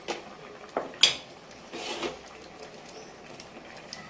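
Tomato pieces tipped into a cooking pot of simmering dal with potato and drumstick pieces, giving a few light clinks and soft knocks of pot and utensil, fairly quiet with gaps between.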